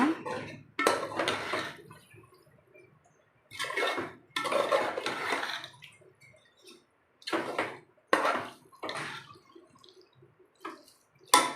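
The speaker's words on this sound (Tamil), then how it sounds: "இப்போ நம்ம நல்லா கிளறலாம் நல்லா அடி பிடிக்காமல் நல்லா அடியில் கிளறுங்க" A spoon scraping and clanking in a metal pot as marinated chicken is stirred through biryani gravy, in irregular bursts of close, rattling strokes separated by short quiet gaps.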